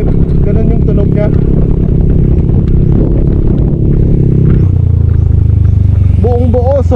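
Rusi Adventure X 150 motorcycle with an open pipe exhaust, a loud, close, steady engine drone that drops to a deeper idle partway through, with a person talking over it.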